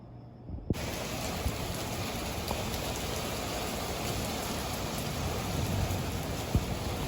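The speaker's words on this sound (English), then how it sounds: "Oh, thunderstorm, hail." Heavy rain from a thunderstorm with hail pours down in a dense, steady roar, with a few sharp impacts standing out near the start and end.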